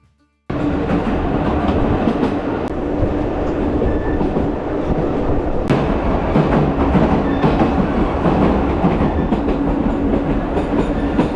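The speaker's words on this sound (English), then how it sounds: "The train takes you through the streets of Palma to start off with" A train to Sóller rumbles steadily along the rails through the streets of Palma, Mallorca, with a continuous low roar and rhythmic clatter, loud and close, with occasional sharp clicks and no voices.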